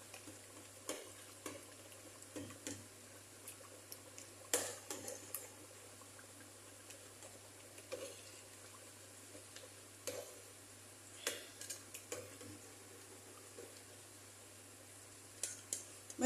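Meat for beryani is stirred gently in a cooking pot, with faint scattered clicks and soft scrapes of the spoon at an unhurried, irregular pace over a quiet low hum.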